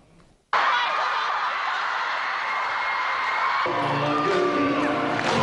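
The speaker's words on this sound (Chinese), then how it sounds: "在近千名歌迷的欢呼声中" A crowd of nearly a thousand fans cheering for Andy Lau at a fan club event in Shanghai, erupting suddenly into a loud, sustained roar of shouts and whoops.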